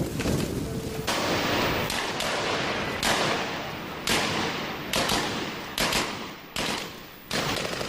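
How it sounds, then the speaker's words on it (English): Rapid bursts of rifle fire from marksmen during street fighting in the Iraq war crack out repeatedly, loud and close, in dense overlapping volleys with no pauses. "The marksmen keep firing."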